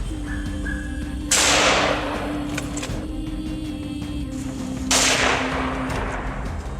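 A Remington 700 rifle fires during a hunt: two loud, sharp shots about three and a half seconds apart cut through a steady, droning background hum.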